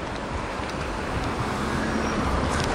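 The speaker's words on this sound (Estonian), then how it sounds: "Ja oi, auto tuleb." A car passing on a wet, rainy street, heard as a steady broadband road wash of tyres and engine that holds at moderate loudness for a few seconds, with no talk over it.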